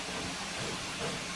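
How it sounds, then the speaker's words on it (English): Safety valves on a steam locomotive in a train video game vent a steady, loud broadband hiss that holds unbroken throughout, with no voices over it. "Safety valves going off again."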